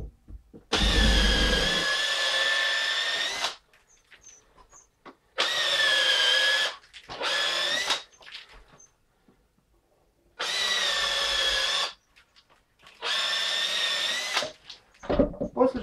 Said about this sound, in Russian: Отверстие делаю первым шуруповертом.